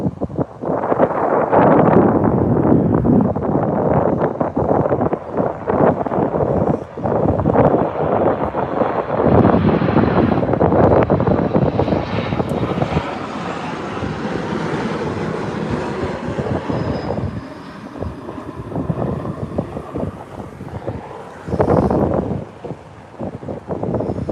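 A loud, sustained roar of a jet aircraft arriving close at Tampa airport, rumbling and swelling with heavy wind buffeting on the microphone throughout.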